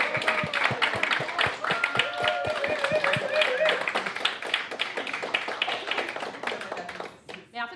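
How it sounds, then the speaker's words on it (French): Applause from attendees at an annual general meeting of a community creative centre, steady mixed clapping with a few whoops and voices over it for about seven seconds before fading. "Gabriel mérite une main d'applaudissements."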